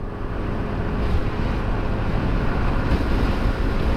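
Strong wind roars across the microphone while riding a 2020 Yamaha NMAX V2 non-ABS scooter on an open road at top speed with a passenger, a dense, loud, buffeting rush that continues throughout.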